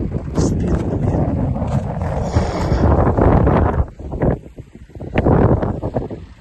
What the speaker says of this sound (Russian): Ой, блядь, дует.